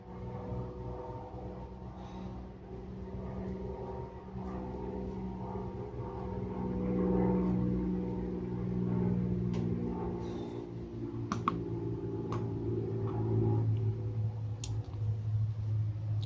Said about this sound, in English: There's another airplane, so it's kind of just what it is.